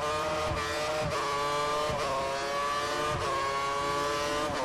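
A Formula 1 car from a 2014 racing game mod pulls away on a wet Monaco street circuit, its high, steady engine whine climbing in pitch with brief shift dips, loud and continuous throughout.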